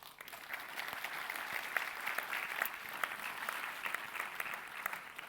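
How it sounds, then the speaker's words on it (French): Sustained audience applause greets panelists walking onto the stage at a doctoral degree graduation ceremony, a dense, steady clapping from a large crowd that holds at even loudness throughout. "sous vos applaudissements"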